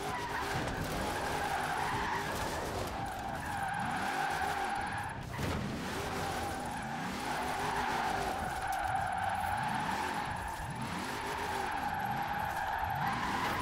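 Car drifting on a village circuit in Forza Horizon 4 with the handbrake, a continuous engine drone with tires squealing and skidding in repeated sweeping waves, loud and close.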